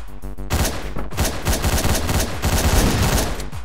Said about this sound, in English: That's a lot of gunfire my way.